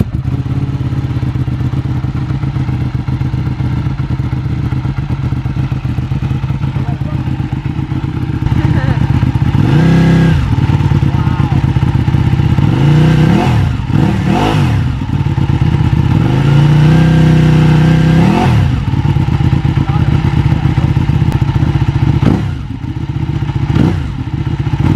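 A Ducati Panigale fitted with a throttle spacer kit, its engine idling with a steady clatter and then snapping up into several sharp, loud revs that drop back, close by, with people talking at times.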